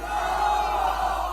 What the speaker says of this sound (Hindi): जोरदार ताली बजाओ और नारा लगाओ